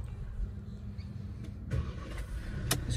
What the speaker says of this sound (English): So this being the diesel, it has the diesel sound.